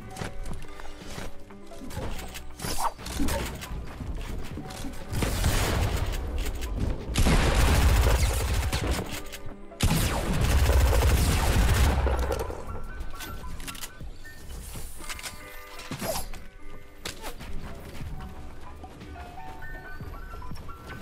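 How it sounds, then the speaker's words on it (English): Gunfire in Fortnite aimed at the player, bursts of shots and impacts swelling loud mid-clip over continuous game sounds, with no speech. "Someone's shooting at me from the east."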